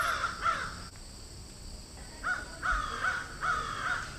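Crows caw repeatedly while eating food offered to ancestors, several sharp calls in two bursts with a quiet pause between, fairly close and alone with no talk.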